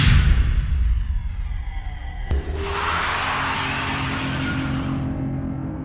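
A 2010 GMC Enclave with a no-start fault has its key turned in the ignition: a sharp click, then a steady hum of electrical systems and fans coming on, close and even.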